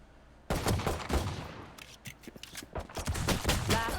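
Gunfire in the tactical shooter Valorant, including Desert Eagle pistol shots: a sudden loud shot followed by a rapid string of sharp cracks and bursts in quick succession.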